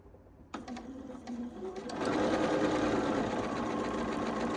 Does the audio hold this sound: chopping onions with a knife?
no